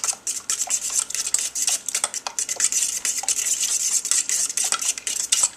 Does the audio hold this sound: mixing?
yes